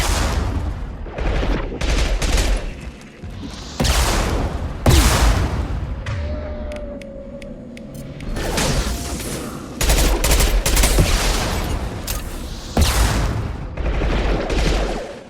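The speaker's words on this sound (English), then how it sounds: "Taking fire." Intense firefight gunfire in Mass Effect 2, with repeated loud bursts of weapon fire and impacts coming in rapid clusters, broken by short pauses and a brief electronic tone.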